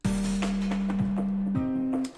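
A synth plays single sustained low root notes, holding one pitch then stepping up to another, steady and smooth with faint rhythmic accompaniment behind.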